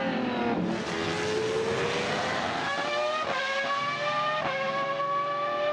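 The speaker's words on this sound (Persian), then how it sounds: "حتی یک خودروی مسابقه پرشتاب نیز میتونه صدای تقریباً گوشخراش 160 دسیبل" A race car engine accelerates loudly and continuously, its rising whine climbing steadily in pitch with a couple of quick gear-change dips near the end, alone with no voices.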